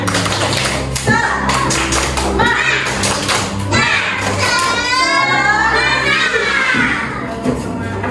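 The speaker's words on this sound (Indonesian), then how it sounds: "Kalau sudah semangat berarti sudah siap tepuk semangat" A class of schoolchildren performs a rhythmic spirit clap, with patterned claps and taps mixed with children's voices and chanting throughout, loud and close in a classroom.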